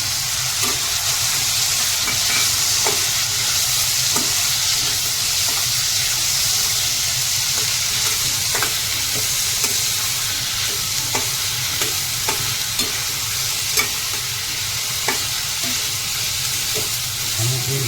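Chopped green onions fry in a pan under constant stirring, a steady loud sizzle and hiss with frequent small scraping clicks from the utensil, no talking over it.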